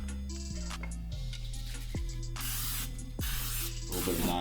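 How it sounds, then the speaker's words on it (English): Non-stick cooking spray hisses onto a skillet in a hotel room in a few bursts of different lengths, fairly close, with a short ticking click before the spray starts. "A little bit of non-stick spray so the eggs come out nice."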